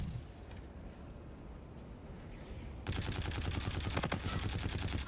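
First-person shooter gunfire in a Search and Destroy match, quiet muffled game ambience that suddenly breaks into rapid automatic bursts, dense and continuous for the last two seconds.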